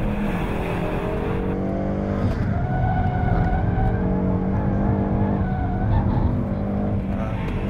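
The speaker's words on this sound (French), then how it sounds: "Le moteur fait un beau bruit, une belle sonorité." Peugeot 308 GTI engine and exhaust while driving, a loud continuous sporty drone with rising and shifting pitch as it accelerates through gears, close and steady throughout.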